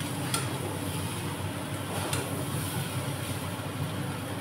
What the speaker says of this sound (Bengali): এই যে এবার এটাকে ভালো করে মিক্স করে নেবো আমরা